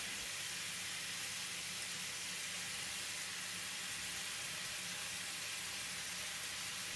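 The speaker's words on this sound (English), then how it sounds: "While the pork is cooking, add in all the butter for additional fragrance." Pork cooking in butter in a pan gives a steady, close, even sizzle and hiss that runs unbroken for seven seconds at moderate level, with no talk over it.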